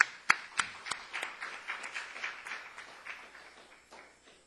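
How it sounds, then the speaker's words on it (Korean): A small church congregation at a Saturday praise service claps to welcome a man up to give his testimony, a loose scatter of hand claps that starts with a few sharp hits and thins out as it fades. "우리 박수로 환영합니다"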